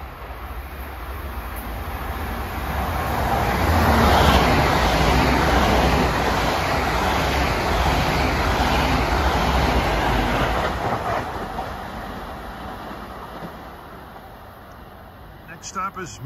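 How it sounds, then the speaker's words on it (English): A Long Island Rail Road commuter train, Ronkonkoma to Grand Central, passes at Carle Place in the early-morning rush, a loud sustained rumble with rhythmic wheel clatter swelling then slowly fading away. "our first customer at 5:35 a.m. is train 2009, Ronkonkoma to Grand Central"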